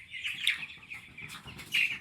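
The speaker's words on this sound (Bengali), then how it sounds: "মুরগিগুলো দেখুন খেয়ে দিয়ে খুব আরামায়েশ করতেছে" Broiler chickens on a poultry farm cluck and chirp softly in a low, continuous chatter of overlapping calls.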